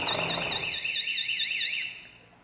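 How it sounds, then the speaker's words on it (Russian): A door-opening child safety alarm on a pool house door shrills nearby in a loud, warbling electronic tone for about two seconds before switching off, with no one talking. "нужно ставить вот такие вот пищалки для детей. И при открытии двери люди будут знать"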